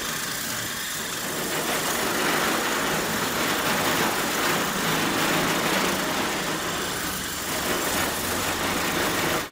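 A Grillion electric grill brush motor runs steadily while scrubbing a grill, giving a continuous loud, buzzing whir with a scraping texture that holds without a break and cuts off abruptly at the end.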